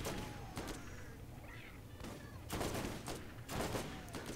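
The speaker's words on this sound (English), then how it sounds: "this assault rifle is inaccurate as fuck" Assault rifle fire in the shooter game Borderlands, several bursts of shots spread across the moment, with louder volleys near the end over a steady game background.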